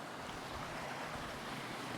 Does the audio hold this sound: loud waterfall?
yes